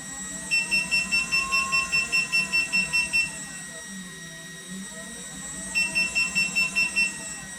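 Two bursts of rapid, evenly spaced electronic beeps, about a dozen in the first run and several in the second, with a quiet pause between.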